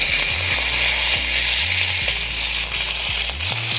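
A flipped fish fries loudly in hot oil in a pan, giving a constant dense sizzle and crackle with occasional low knocks and scrapes of a utensil against the pan.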